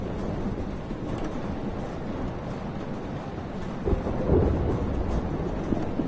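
Thunderstorm in the video game Life is Strange: a steady wash of heavy rain with low rolling thunder, swelling into a louder rumble near the end, no voices.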